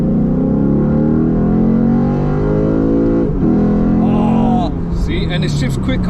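A 2008 Lexus IS F accelerates hard through its gears, the engine note climbing steadily with a brief dip at each upshift, loud and close from inside the cabin.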